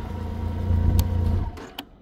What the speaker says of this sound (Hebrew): סרטון רכיבה על הקנם רייקר, שתוכלו לשמוע אותו צורח מהאקזוס של הקרפוביץ'